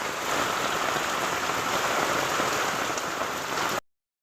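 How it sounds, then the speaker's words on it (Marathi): Heavy evening rain pours down in a dense, steady hiss of drops on surfaces, unbroken and fairly close, with no voices, before stopping abruptly near the end. "सामको काळोख करून पावस येता."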